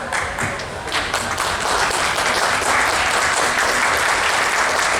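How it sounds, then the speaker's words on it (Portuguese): An audience gives standing applause for the writer Luiz Vilela at a literary event, loud and continuous clapping from a large crowd that swells slightly and holds steady throughout. "Eu gostaria de pedir a todos, em nome da mesa, que aplaudem Luiz Vilela de pé."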